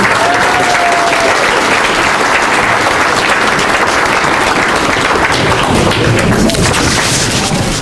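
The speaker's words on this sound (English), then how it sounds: "can we have another round of applause for all the 30" Steady, dense applause from an audience honoring the mushers of a 30-mile and 100-mile sled dog race at an awards gathering, continuous and fairly loud throughout with a faint tonal whistle early on.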